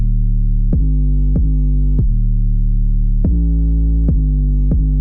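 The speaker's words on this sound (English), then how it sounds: "I decided to use an 808 with a little bit more punch" Long, bass-heavy 808 in a Pluggnb beat made in FL Studio, a loud, booming sub-bass tone restruck in a steady, slightly uneven rhythm with sharp clicky attacks, each note sustaining into the next.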